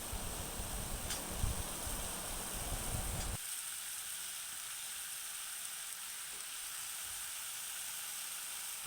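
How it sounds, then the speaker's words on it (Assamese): Taro stems and potatoes, seasoned with salt and turmeric, sizzle in hot oil in a pan with a bright, steady hiss for about three seconds. The sound then drops to a quieter, muffled simmer and stays steady to the end. "তাৰপিছত ধুনীয়াকৈ ভাজি লৈ মই তাতে ঢাকন দি দিলোঁ।"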